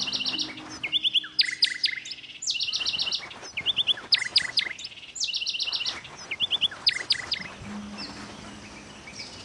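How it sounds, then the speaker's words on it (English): A bird in the audio game Sonar Islands chirps in repeated rapid, bright bursts of tweets, loud and close, with brief pauses between phrases and a low tone starting near the end. "Now try to catch the bird."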